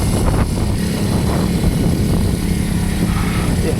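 Kawasaki W230 or Meguro S1 classic motorcycle on a test ride, its engine giving a steady, loud low drone mixed with rushing wind noise, close and continuous with no talk.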